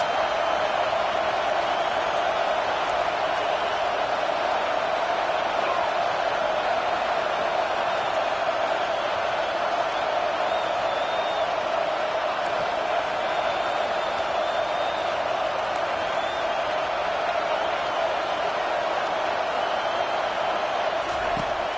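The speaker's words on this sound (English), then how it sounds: "Listen to this crowd just shaking the girders of this place, trying to help their defense." A football stadium crowd roars steadily on third down, a dense, sustained wash of cheering and noise from a large audience with no break throughout.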